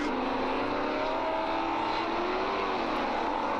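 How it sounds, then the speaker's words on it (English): A Lola T332 Formula 5000 racing car runs during a 2009 race at Christchurch, New Zealand, producing a loud, continuous engine roar with a slowly rising pitch that fills the short stretch without pause. "This is the ex-Murray Sinclair, ex-Graham Lawrence Lola T332 in the livery as raced by Graham Lawrence."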